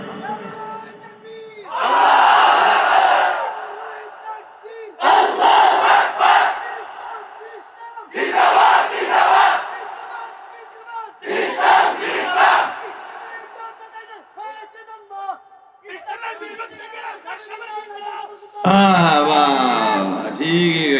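A large crowd shouts takbir in several loud, unified bursts separated by short pauses, each swelling and cutting off, with a preacher's voice in the gaps and a final burst at the end.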